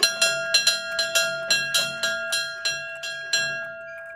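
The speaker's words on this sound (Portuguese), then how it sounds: "Tocando sino." A single bell at a train station in South America rings in a steady series of about a dozen clear, ringing strikes, each one decaying into a sustained tone, loud and close with no talking.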